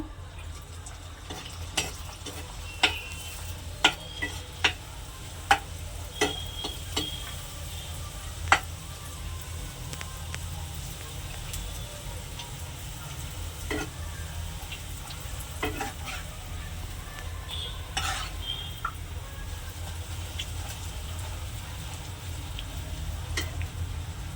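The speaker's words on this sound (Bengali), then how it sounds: "এভাবে আমি সব লুচিগুলো ভেজে নেব।" Carrot luchi flatbread deep-frying in hot oil, a constant low sizzle broken by sharp clicks and utensil taps, strongest in the first ten seconds, with no one speaking.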